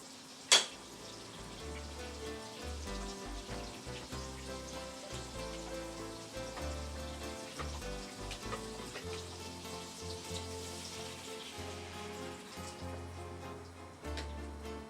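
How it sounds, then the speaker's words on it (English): Butter melting and sizzling in a pan while cooking pork chops with sage, a faint steady crackle and patter with a sharp knock near the start and music-like tonal hum underneath. "Let's get the butter to melt again."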